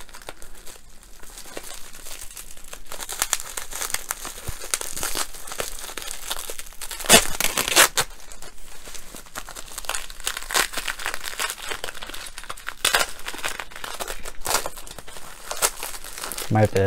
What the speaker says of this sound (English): trying to rip open the bubble wrap